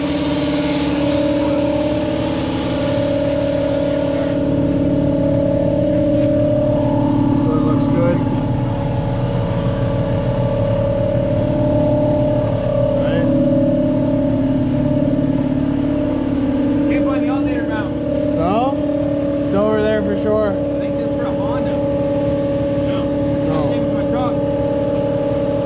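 A Toyota Supra engine fitted with a new intake runs at a steady, droning idle nearby for a long stretch, with faint voices and some clatter in the background.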